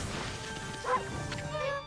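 Dog barking in the video game Ōkami, a couple of short yips over busy game background music and effects, fairly faint in the mix.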